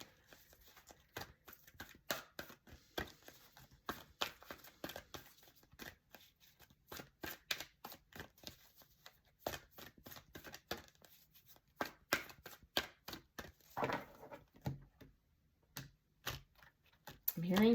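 Oracle cards being shuffled at close range, a long, steady run of soft, rapid riffling clicks and flicks that pauses briefly now and then.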